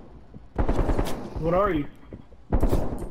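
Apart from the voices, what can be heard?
gunfire in Call of Duty: Black Ops Cold War video game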